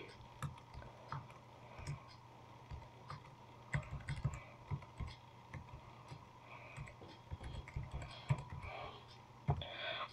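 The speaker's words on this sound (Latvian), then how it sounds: "Tāpēc tagad rakstiet savu Skype vārdu." Steady typing on a computer keyboard as a Skype username is entered, irregular close keystroke clicks with a few louder taps, over a faint background hum and no talking.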